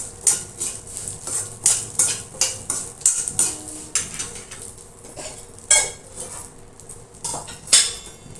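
Flaxseed and niger seeds dry-roasting in a pan over a low gas flame, with repeated metallic scraping and stirring clinks against the pan, close and rhythmic, no talking.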